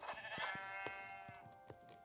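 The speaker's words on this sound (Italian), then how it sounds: "Pecora." Sheep bleating in the video game Minecraft, several short wavering bleats near and clear over a steady tonal game music bed, with faint footstep-like thumps, no talk.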